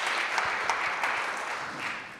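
An audience claps at a French university event, a steady round of applause from a crowd at moderate distance, without speech.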